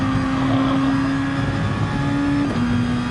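A race car engine holds steady at full throttle around Monza in Gran Turismo Sport, a constant loud drone with a brief shift-like dip near the end.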